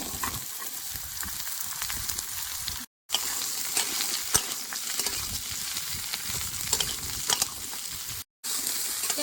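Bottle gourd and green chilli frying in hot oil, a continuous loud sizzle with scraping stirring strokes, broken by two brief silent gaps.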